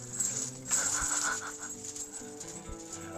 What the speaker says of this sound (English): A puppy talking at me.